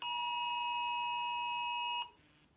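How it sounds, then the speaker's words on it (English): An Amber Alert emergency tone sounds from a phone as a loud, steady, piercing electronic beep for about two seconds, then stops abruptly. "That's an Amber Alert."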